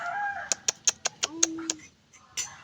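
A chicken clucks close by: a run of short, sharp clucks in quick succession, then a brief pause and one final cluck.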